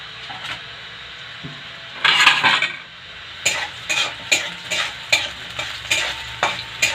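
Onion sizzles in a pan for a meat curry with whole garlic, potato, cumin, turmeric and chilli, while a utensil scrapes and stirs it in repeated rhythmic strokes over a soft, steady frying hiss, close by.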